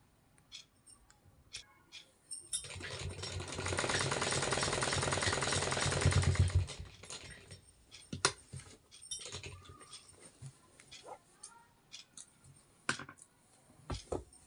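A sewing machine runs a straight stitch along a kali-style salwar, its motor whirring steadily for about four seconds before stopping, followed by quieter clicks and fabric handling.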